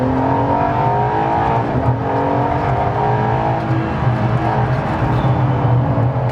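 Hypercar engine pulling hard through the gears, the loud rising and falling revs stepping up with each shift, continuous and close under heavy road and wind noise.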